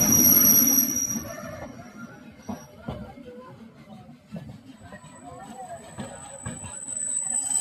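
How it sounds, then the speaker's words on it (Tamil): Ooty toy train on the Mettupalayam to Coonoor line pulling away, a steady rumble of wheels and carriages with faint metallic squeal and clatter, heard from inside with a continuous background drone. "நம்ம ட்ரெயின் பார்த்தீங்கன்னா மூவாக ஸ்டார்ட் ஆச்சுங்க."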